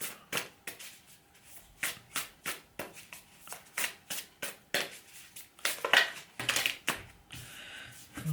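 Oracle cards riffled and shuffled by hand in a steady series of soft, papery bursts, close and fairly quiet, ending with cards being drawn from the deck; no talking.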